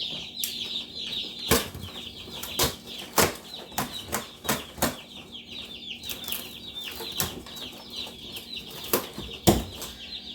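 Cornish Cross meat chickens flap their wings in repeated loud, fluttering bursts, with soft clucking in between.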